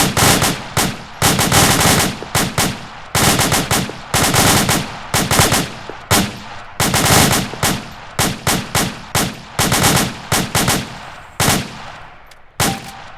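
Gunfire from rifles in a tactical exercise, loud close bursts and rapid single shots repeating in quick clusters for over ten seconds before tapering to a few spaced shots, no talk over it.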